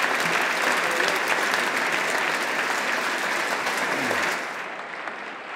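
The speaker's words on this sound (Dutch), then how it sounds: "Een hartelijk applaus." Warm, dense applause from an audience in a church at an academic inaugural ceremony, steady and sustained before tapering off at the end.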